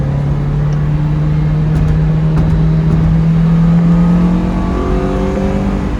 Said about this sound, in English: I'll do a third gear pull.